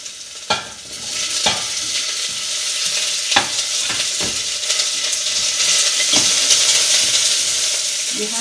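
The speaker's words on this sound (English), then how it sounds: "See the oil hot? The oil hot, right? And you put garlic and onion in." Garlic and onion sizzle in hot oil for bo kho, a steady frying hiss with several sharp stirring clicks of a spoon against the pan, close and fairly loud, no talking.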